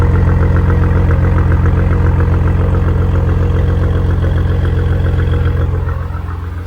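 A Maserati engine idles in sport mode, a deep, steady, loud rumble with a constant low throb that holds without a break and eases slightly in the last second.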